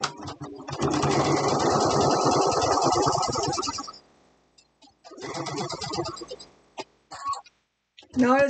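A sewing machine stitches pieces of orange and blue fabric in a long, rapid, close run, stops, then runs again in a shorter burst, followed by a few clicks and a brief voice at the end.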